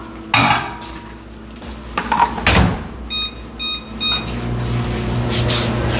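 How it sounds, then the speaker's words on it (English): A microwave oven warming yogurt hums steadily with clattering dish and door sounds, followed by a short series of electronic beeps. "I'm going to put it in the microwave for 30 seconds just to get that chill off"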